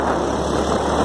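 A Chinese quad's engine idles steadily while the choke is pushed in, giving a continuous close rumble with no break and no talk.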